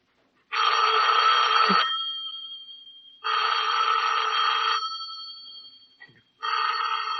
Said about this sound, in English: Better answer the phone.